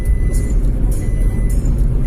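A car travelling along a road, giving a steady, loud engine and tyre rumble that runs the whole time, with faint voices under it.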